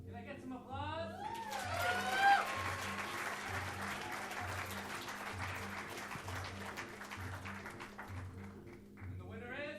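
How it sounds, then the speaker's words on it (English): Studio audience applause at a live comedy podcast taping, a steady loud wash of clapping and cheering lasting the full stretch, with a rhythmic low beat from music underneath and brief voices at the start. "Can I get some applause?"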